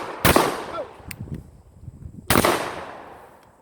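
Shotgun shots fired outdoors during a shotgun skills test, with two loud, close blasts about two seconds apart and a fainter pop between them.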